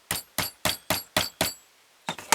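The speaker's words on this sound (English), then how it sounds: "we're going to mark the center with a punch here" A center punch taps on wood while marking a center for a wooden ventriloquist dummy, six sharp, evenly spaced hits, then a short pause and two quicker taps, all close and crisp.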